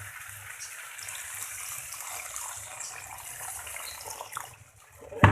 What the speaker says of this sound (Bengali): অল্প একটু জল দিয়ে দিলাম